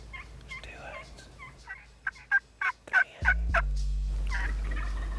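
Wild turkey toms gobbling outdoors in a run of loud, rapid rattling calls at middle distance, ending as a low steady rumble like a running engine comes in close.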